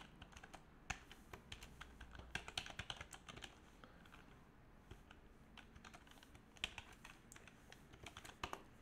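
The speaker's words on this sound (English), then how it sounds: "so I'm just gonna type it out" Quiet computer keyboard typing, irregular bursts of light clicking keystrokes spread across several seconds, close but soft, with no speech.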